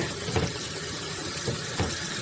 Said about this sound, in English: You want to make sure you give it a good rinse.